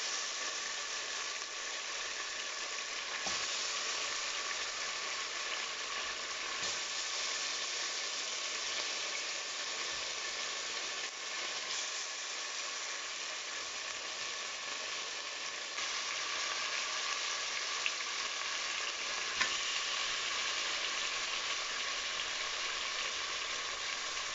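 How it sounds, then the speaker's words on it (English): Jamaican oxtail sears in a hot pot, giving a continuous, even sizzle that holds steady and close for the whole stretch, with a few faint clicks and no voices. "I'm gonna put all my oxtails in."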